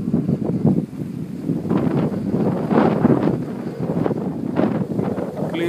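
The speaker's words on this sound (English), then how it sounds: "today is a nice windy day" Wind buffeting an outdoor microphone on a breezy day near a Missouri wind and solar power setup, gusty rumbling bursts rising and falling, loud and close, with no talking.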